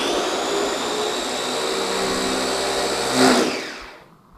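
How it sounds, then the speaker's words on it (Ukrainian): A kitchen blender chopping onion and carrot whirs steadily at high speed, a loud dense roar that briefly surges near the end and then winds down. "Вмикаємо блендер."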